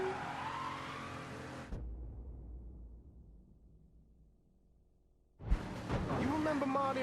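Car in the Mafia 3 video game driving, with engine noise and tire skids heard before and after a quiet stretch of fading rumble, mixed with game sounds.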